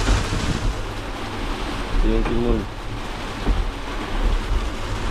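Strong wind roars steadily with gusting surges and rushing water noise, loud throughout, as someone speaks briefly beneath it.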